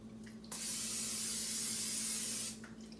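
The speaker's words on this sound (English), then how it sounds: "Let me spray it." A steady two-second burst of cooking spray hisses loudly onto a pan, starting and stopping abruptly over a low background hum.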